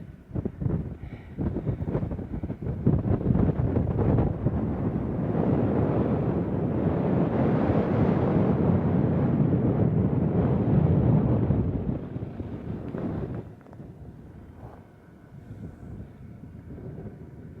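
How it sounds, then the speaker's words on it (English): Steady wind buffets the microphone on a mountain saddle along the Pacific Crest Trail in a low, roaring rush that swells through the middle and eases toward the end, with no voices. "A little breezy, but as long as it's not like hurricane force winds, we'll be okay."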